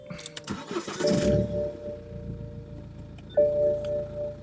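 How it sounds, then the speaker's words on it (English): A BMW E90 car engine cranks and catches, settling into a steady idle, then a second quick crank-like whine rises before the engine continues humming. "Let's start the engine first."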